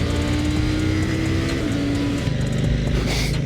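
A KTM Duke 890R motorcycle engine held at full throttle, a loud sustained roar with a steady droning tone that shifts pitch partway through, no talking.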